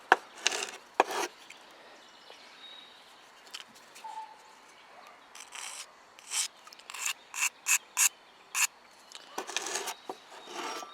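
A Sawzall blade scrapes across a surface in a series of short, dry rasping strokes, close and fairly quiet, with brief pauses between bursts.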